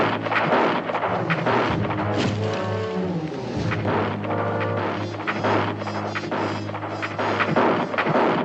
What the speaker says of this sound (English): That's shooting awful good for Indians.